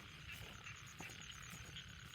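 Frogs croak in rice fields after rain in the Isan countryside of northeastern Thailand, a steady, fairly distant chorus of repeated pulsing calls with a faint insect-like hiss above.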